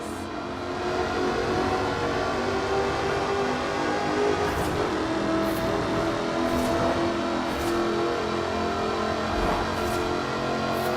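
A supercharged 5-litre V8 engine in an aluminium-bodied car in the racing game Forza Horizon 4 roars steadily and loud, holding a sustained drone with brief higher-pitched shifts and clicks over it.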